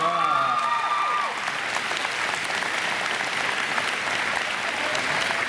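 Applause and cheering from a graduation audience fill the hall after a line of thanks in a valedictorian speech, a dense, steady wash of clapping that starts with a brief cheer and holds loud and unbroken to the end.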